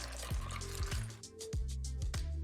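Pecan pie filling poured into a chilled pie crust, a soft liquid glug and trickle with several low knocks and taps as the container tips, fairly quiet and close, with no talking.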